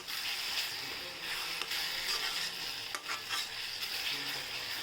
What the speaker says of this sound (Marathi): आता आपण थोडी कोथिंबीर टाकू याच्यात आणि हलवून घेऊया